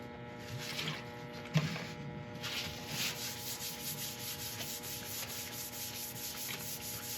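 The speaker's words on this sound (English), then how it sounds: "clean off all the residue with a bit of isopropyl" A resin woodturning piece is wiped down with isopropyl alcohol, giving a steady soft rubbing and scrubbing sound with one sharper knock partway through.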